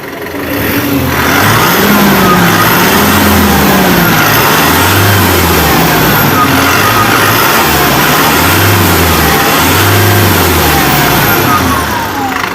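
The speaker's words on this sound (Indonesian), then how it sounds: "Oke, coba kita gas suaranya seperti apa teman-teman." A Mitsubishi Canter Euro 4 truck's diesel engine is revved repeatedly, rising and falling in roughly four swells over a loud constant roar with a turbo whine, recorded close with no speech.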